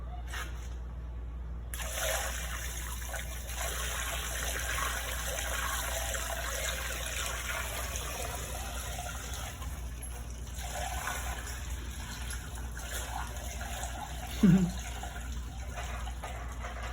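Cooled cherry IPA wort pours steadily into a fermenter with a soft, continuous gurgling wash, fairly quiet, ending with a brief knock near the end.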